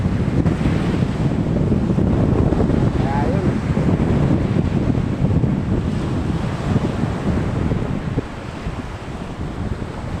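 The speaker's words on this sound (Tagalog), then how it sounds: "pagka ganitong kalakas ang alon sa tabing dagat" Strong sea waves roll and crash onto the shore in a loud, continuous surf roar, with heavy wind buffeting the microphone throughout.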